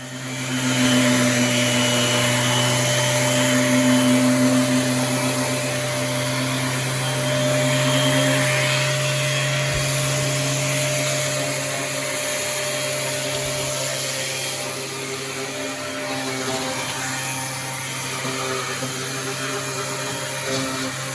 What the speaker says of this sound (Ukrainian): вже ми пробуємо в дії шліфувальну машину Vitals у поєднанні із пилососом